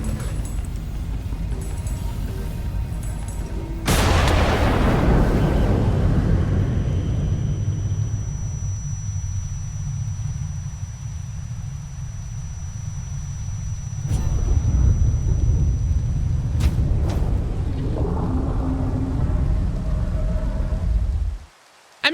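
The Witherstorm blows up in a Minecraft modpack game: a sudden massive boom gives way to a long, heavy rumbling roar that swells again midway before cutting off abruptly.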